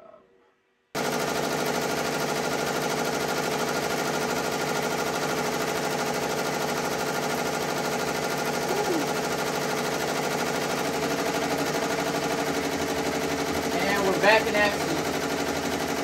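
A Ricoma MT1502 embroidery machine stitching a beanie, running as a steady, fast mechanical whir and patter that starts abruptly after a brief quiet moment and holds evenly throughout, with a short spoken word at the start.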